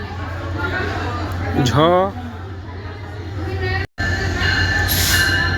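The Madhumati Express from Rajshahi pulls into a station, a loud continuous rumble of rolling rail cars with a rising squeal of wheels and a sharp brief dropout, crowd murmur and a voice underneath.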